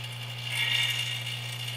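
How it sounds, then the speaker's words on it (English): A vacuum pump pulls vacuum on a DeLorean air conditioning system, giving a steady, close mechanical drone with a constant low hum and a faint ratcheting rattle that swells slightly midway. No one speaks. "You can kind of hear the vacuum pump sound change."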